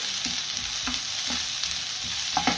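Chopped carrots stir-frying in a hot pan as part of a chicken and vegetable stir fry, giving a steady, loud sizzle with a few soft stirring scrapes and clinks over it.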